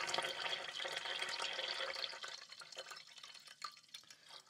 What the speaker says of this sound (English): That's water going into our tea kettle.